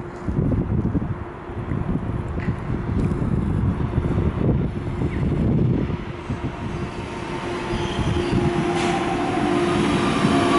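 A train rumbles steadily into Skierniewice station, a low continuous roar with wind noise and a faint high squeal of brakes.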